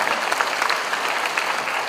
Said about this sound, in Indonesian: Tepuk tangan dulu untuk Pak Bambang.